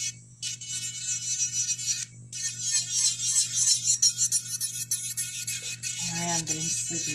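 Electric nail drill filing fingernails, giving a steady high-pitched whine over a low motor hum, close and continuous with a brief dip near the two-second mark and a rougher grinding change toward the end.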